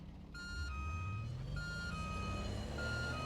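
A truck in the Watch Dogs: Legion video game sounds a repeating reversing beep in steady pulses over a loud, rising engine drone, with no talking.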